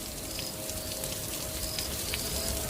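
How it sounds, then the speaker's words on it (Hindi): Heavy rain falls at night near a remote forest school, a soft, steady wash of drops hissing evenly with no break. "बारिश इतनी तेज थी"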